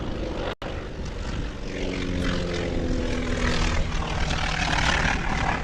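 A T-6 Texan II propeller plane at the Las Cruces air race roars steadily and loudly with a droning engine tone that holds and swells as it passes, briefly cut out near the start.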